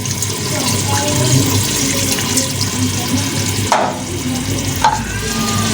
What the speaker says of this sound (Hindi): इसको चलाएंगे, अच्छी तरह चलाएंगे, गाढ़ा हो जाएगा।